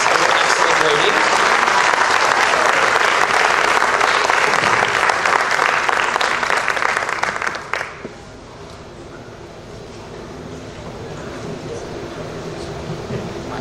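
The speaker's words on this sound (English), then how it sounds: "let's give a big round of applause to our celebrants and their excellent ratings." Loud audience applause at a spring school band concert and awards ceremony, thick and steady for about seven seconds before it quickly fades to a quiet, murmuring room.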